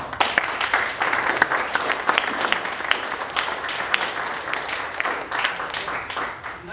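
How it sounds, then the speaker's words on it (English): Audience at a university Shark Tank-style pitch event giving a steady round of applause, many hands clapping continuously at an even level throughout, with a little chatter mixed in. "let's give them a big applause"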